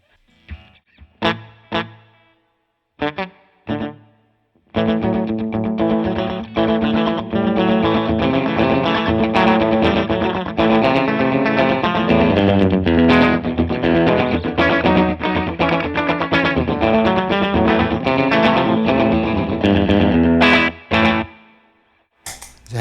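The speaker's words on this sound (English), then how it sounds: "it's got a pretty legit slapback if you set it about here" An electric guitar played through a Strymon Deco pedal set for slapback echo, with a few opening plucked notes followed by sustained, driven chords whose short repeats trail each attack, loud and close with no talking.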